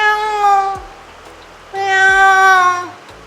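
A human voice imitates a kitten's meow twice, with a high, drawn-out mew, a pause, then a longer second mew, close and clear.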